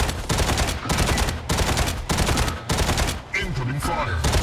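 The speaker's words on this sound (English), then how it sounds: "Incoming fire" Rapid, loud bursts of mech weapon fire in the video game Mech Arena, several sustained volleys separated by short gaps, with an in-game voice cue near the end.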